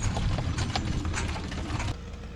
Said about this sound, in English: going by with the horses